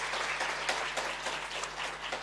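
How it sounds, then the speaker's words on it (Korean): A church congregation at a Sunday service applauds to welcome a guest, a steady dense patter of many hands at moderate volume with no talk over it. "우리 손지민 박수로 환영하겠습니다"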